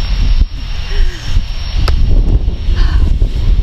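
Steady gusty wind roars across the microphone at a skydiving landing area, a continuous close buffeting rumble with faint rustling and no clear voices.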